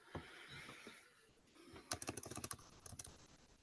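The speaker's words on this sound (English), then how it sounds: "I hear you typing." Fingers tap quickly on a computer keyboard, with irregular bursts of clicky keystrokes picking up in the second half, heard faintly over a quiet room during an online meeting.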